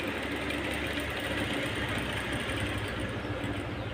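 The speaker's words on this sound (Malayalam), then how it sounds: "അപ്പം മെഷീൻ ചെയ്യുമ്പോൾ നമ്മൾ ആദ്യം തുടങ്ങിയെടുത്തുനിന്ന് ഇതേ രീതിയിൽ മുകളിലോട്ട് വരണം." A sewing machine stitches a fall onto a saree, its needle mechanism whirring in a steady, close, continuous rhythm with no pauses or talk.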